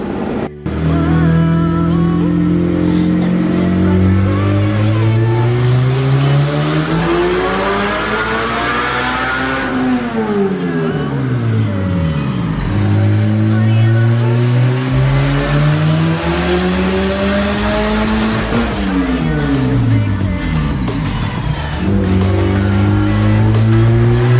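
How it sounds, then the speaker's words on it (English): A supercharged K24-powered Honda Insight engine revs repeatedly, loud and close, each pull rising in pitch as it climbs into VTEC, then dropping back before climbing again, with tire squeal and no talking. "So what the car is doing right now is it would come into VTEC"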